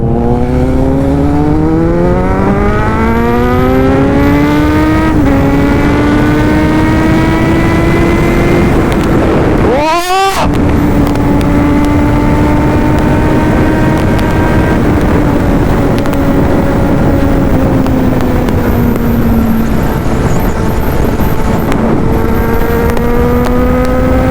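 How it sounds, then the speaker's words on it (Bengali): A superbike speeds along the Kalyani Expressway. Its engine drones loud and steady with a rising, then holding, pitch, and a brief whooshing pass-by lands near the middle. "আমি সুপার বাইক নিয়ে ফার্স্ট টাইম কল্যাণী হাইওয়েতে আসলাম"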